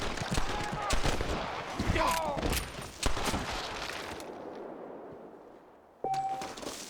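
Rapid gunfire from a shootout in Red Dead Redemption, sharp repeated shots and clangs crackling loudly through the first few seconds, then fading toward a quieter lull before another burst, with shouted game dialogue mixed in.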